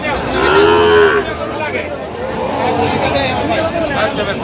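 One clear, drawn-out moo from a Sahiwal bull calf, about five or six months old, rings out early, followed by fainter lowing beneath busy market chatter in Kurigram.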